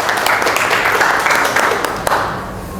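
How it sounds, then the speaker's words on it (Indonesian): Classroom audience clapping in applause for a student during an Indonesian teacher-training lesson, a steady burst of many hands lasting a few seconds and fading toward the end. "Aplaus buat Miftah."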